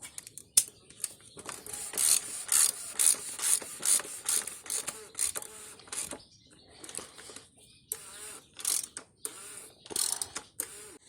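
Ratchet clicking in quick bursts as an oil filter housing is screwed down on an Audi A6 C7 2.0 TDI, close and crisp, with short pauses between runs of rapid pawl ticks.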